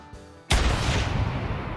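Rifle shot in the hunting video game theHunter: Call of the Wild: one sudden loud blast after a quiet moment, followed by a long rolling echo that fills the rest of the clip.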